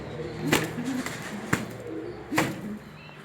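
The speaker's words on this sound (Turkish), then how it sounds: "Çok sinirli bir kuş. Çok da seri kanat vuruyor." Several sharp bursts of rapid wing flapping from an agitated pigeon, about three in quick succession, with soft pigeon cooing in between, close by.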